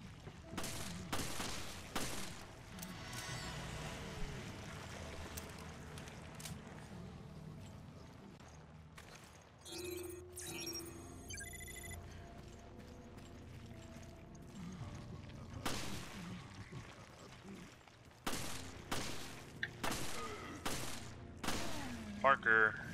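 Gunfire in the survival-horror game Resident Evil: Revelations, scattered sharp shots breaking through a busy mix of game effects and music, with talk over parts of it.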